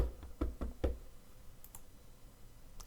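Four quick knocks on a door in the Detective Butler game, sharp and close, then a couple of faint light clicks as things fall quiet.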